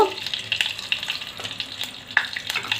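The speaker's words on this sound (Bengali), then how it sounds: "এর মধ্যে একটু সর্ষে ফোড়ন দেব" Mustard seeds sizzle in hot oil and ghee, a close, crackling fry with scattered sharp pops and a few stirring scrapes, without any talk.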